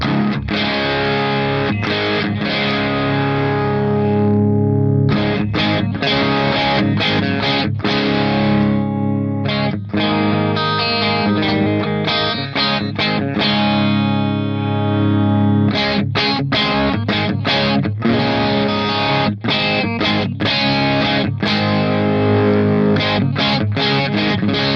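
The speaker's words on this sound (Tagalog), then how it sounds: "dito pa lang sa Crazy Screamer natin, palag na siya. Ang ganda ng pagka-drive niya." Electric guitar played through a MoVall Crazy Screamer overdrive pedal, loud driven chords and riffs with brief stops, ringing on alone throughout.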